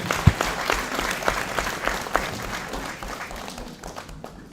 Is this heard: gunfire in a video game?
no